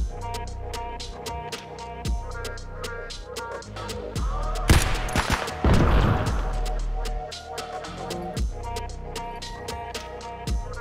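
Grenade explosions in a first-person video game shooter: two heavy, loud blasts in quick succession mid-clip, surrounded by scattered sharp gunshot cracks and clicks before and after.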